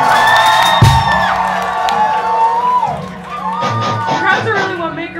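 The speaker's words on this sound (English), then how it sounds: "So give yourselves a round of applause." A concert crowd at a club show cheers and whoops in a loud, continuous swell of shouts and applause, with individual voices rising above the noise.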